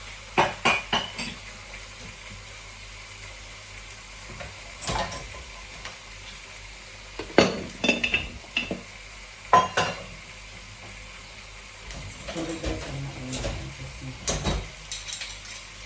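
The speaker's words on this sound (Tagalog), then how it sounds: "Tapusin ko muna ang pagliligpit ko kasi maingay" Clattering dishes and clinking cutlery in irregular bursts, pans knocking and scraping nearby with quiet gaps between.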